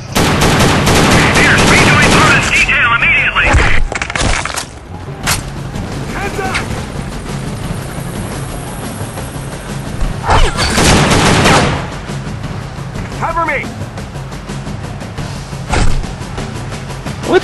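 Gunfire in the shooter game Secret Service: The Ultimate Sacrifice, loud rapid bursts and shots rattling in clusters with gaps between, mixed with talking.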